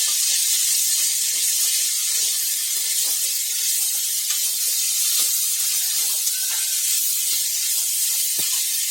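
Beans sauté in a hot pan as a steady bright hiss and sizzle, with faint scattered clicks of stirring heard up close and no voices.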